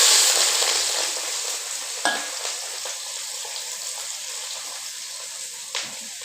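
Onions and green chillies tossed into a hot pan fry with a steady broadband sizzle, a sharp clatter near the start and another toward the end as they hit the oil and get stirred.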